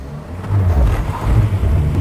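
An LDV Pilot van pulls away hard from a light in a drag race, its engine droning low and rising in a steady, close run with no talk over it.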